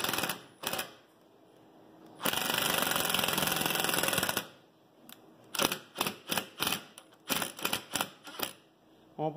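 A power screwdriver drives a screw into a wooden ironing-board chair, a steady whirring run of about two seconds followed by a series of short rhythmic bursts, close by with no talking.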